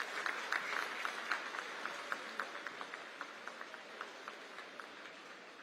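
An audience stands and applauds to welcome the Prime Minister at the Kushinagar airport inauguration, steady clapping heard from a distance that slowly thins out.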